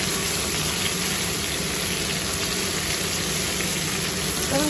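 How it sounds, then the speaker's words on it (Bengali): Five eggs fry together in a pan in a home kitchen, giving a steady, even crackling sizzle of hot oil that carries on unbroken throughout at a moderate level. "এবার 5টা ডিম দিয়ে দেবো। আমার ভাই ডিম ভাজাতে খুব ভয়, তোমরা জানো সেটা। একসাথেই ভেজে নিচ্ছি সব।"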